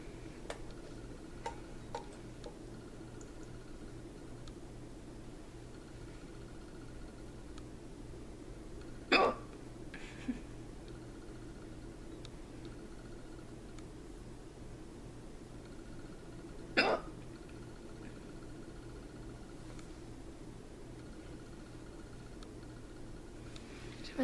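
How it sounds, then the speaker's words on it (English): Two separate hiccups from a woman doing her makeup indoors, sharp and brief and spaced several seconds apart, over a faint hum, with small ticking sounds in between. "I'm so sorry for my hiccups."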